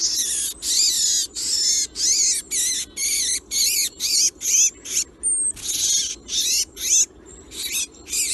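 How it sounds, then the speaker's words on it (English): A bird held in the hand for ringing screams in rapid, harsh, high-pitched bursts, about a dozen short repeated calls close to the microphone, separated by brief gaps over a faint background. "the bird screams because it's obviously upset for obvious reasons"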